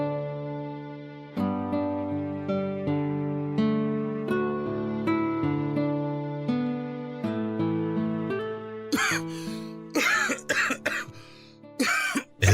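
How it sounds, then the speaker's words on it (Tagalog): Soft melodic music plays, then several harsh coughs burst out near the end, close and loud, in quick uneven succession. "kanina pa ubo ng ubo yung pamangkin mo ha"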